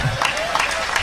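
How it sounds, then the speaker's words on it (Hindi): Brief burst of audience clapping at a Hindi poetry recital, a short patter of many hands close by with a voice mixed in. "ताली वाली बजाए पहले"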